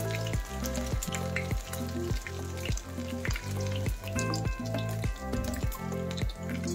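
Meatballs frying in oil give off a steady, close sizzle, and a faint pulsing repeats through it while the pieces cook, with no talking.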